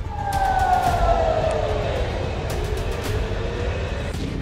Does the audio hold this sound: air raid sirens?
yes